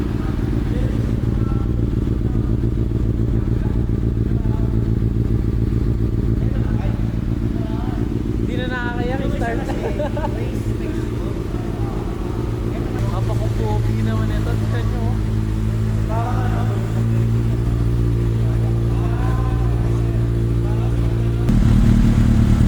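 A Kawasaki ZX6R motorcycle fitted with an Akrapovic exhaust idles with a deep, loud, throbbing rumble. It rises in several revving blips throughout, and a voice talks nearby.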